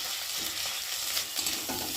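Ground cumin, ginger and garlic paste frying in a pan, a soft hissing sizzle with a few stirring scrapes, close but fairly quiet and continuous.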